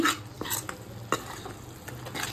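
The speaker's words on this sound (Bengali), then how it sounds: "মশলাটা দিয়ে ভালোভাবে একটু মিশিয়ে নিচ্ছি" Spices being stirred in a hot pan for chana masala, a spoon scraping and clinking against the metal in a few distinct strokes over a soft, steady sizzle of frying, close and moderately quiet.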